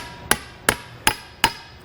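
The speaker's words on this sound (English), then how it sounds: "I'm just going to use that to place on top of my seal, and then gently tap it with a hammer" Four sharp metallic taps, evenly spaced, ring out as a hammer strikes a 1 7/8 inch socket to seat a seal in a Kodiak disc brake kit, each a bright close clank with a short ringing tail.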